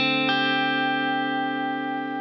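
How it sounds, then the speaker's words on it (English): An electric guitar plays through a free amp-simulator plugin with heavy compression. One struck chord rings out and sustains long and evenly, a brief re-attack early on, then fades only slightly. "By heavily compressing these frequencies, we can essentially extend the sustain of our chords and notes"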